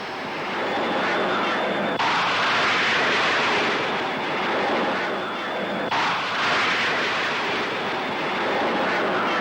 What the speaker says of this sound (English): The last links with the ground are broken, and the Black Knight starts to blast off